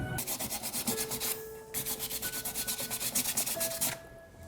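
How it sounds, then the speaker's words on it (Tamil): Rapid, rhythmic rasping of sandpaper rubbed back and forth over a hard coconut shell, steady strokes with a short pause midway, close and without speech. "இப்போ இந்த தேங்காய் சிரட்டையை நான் பொலிஷ் பண்ணுறதுக்கு ட்ரை பண்ணேன் இருந்தாலும் இந்த மணற்கடதாசினால் அதை செஞ்சுக்க முடியல"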